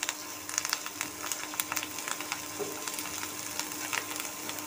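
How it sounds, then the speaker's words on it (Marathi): Ginger garlic paste with onion sizzling in hot oil in a pan, a steady hiss dotted with fine crackles and pops throughout, moderately close and without any talk. "आता हे थोडं तेलामध्ये तळून घेणार आहोत."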